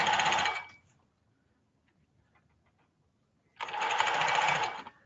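Sewing machine running an understitch along a seam allowance toward the lining, two short bursts of fast whirring stitching separated by a quiet pause, close by.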